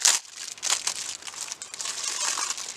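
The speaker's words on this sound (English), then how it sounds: "Let's get the piece out of the plastic so we can see it." Plastic packaging crinkles loudly and continuously up close as a car exhaust tip finisher for a 2007 Honda Fit is unwrapped, with bursts of crumpling throughout.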